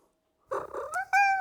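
A cat close by gives a short run of soft purring rumbles that rise into a clear, drawn-out meowing cry, loud and nearby in an otherwise quiet room.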